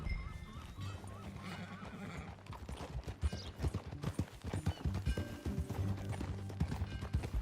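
In the Red Dead Redemption 2 western video game, a horse neighs and whinnies, then its hooves clip-clop in a steady rhythm, growing louder and closer over a musical background, with no speech.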